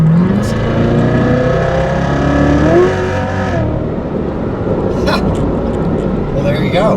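A Chevrolet C7 Corvette Z06 accelerates hard, its engine note rising and roaring loudly from inside the car with a steady drone, while someone talks over it throughout.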